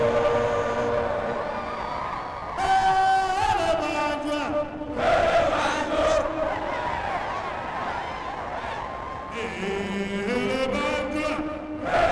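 Troops on parade chanting slogans together, loud massed voices in long sustained phrases with brief pauses between chants.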